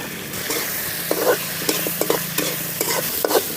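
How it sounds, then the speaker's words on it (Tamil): Dried fish with coconut pieces, salt and turmeric sizzling in a pan in a village kitchen, stirred with repeated scraping strokes over a steady frying hiss, close and fairly loud, no talk. "நல்லா வதக்கணும் கழுவி வச்சு கருவாடு"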